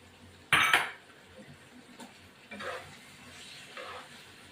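Mutton liver curry is stirred in a metal pot: one sharp clank of utensil on pot, then two softer scraping stirs spaced a second or so apart.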